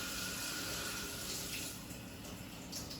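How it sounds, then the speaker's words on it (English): Water runs steadily from a kitchen tap, a continuous, fairly even rushing stream with no talk over it. "Let me get some water."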